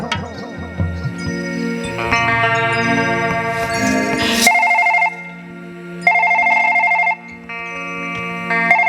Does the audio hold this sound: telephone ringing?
yes